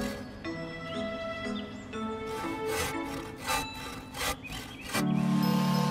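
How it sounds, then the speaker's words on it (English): A cartoon hand saw works slowly through a tree trunk in a forest, giving repeated scraping strokes up close over a steady musical bed, with no talking. "the yellow car uses his saw to cut his tree"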